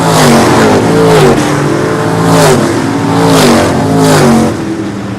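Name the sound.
super modified race cars racing on short track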